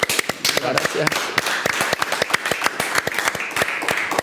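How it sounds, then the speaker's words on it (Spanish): Studio audience applause at a televised science show, dense rapid hand claps that hold steady and fairly loud throughout, with a voice briefly audible near the start. "cerramos con un aplauso"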